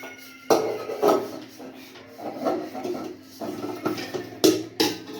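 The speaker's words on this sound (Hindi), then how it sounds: "वानी बर्तन धो रही है।" Dishes, pots and utensils being washed by hand in a home, with irregular clinks, knocks and clatters of metal and crockery close by under frequent talking.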